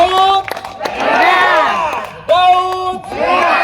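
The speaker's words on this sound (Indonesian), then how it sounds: "Beri tepuk tangan yang terbaik dulu." A large crowd at an outdoor political rally for East Sumba regent and deputy candidates cheers, whoops and shouts loudly in surging waves, with clapping mixed in and a voice rising over the din.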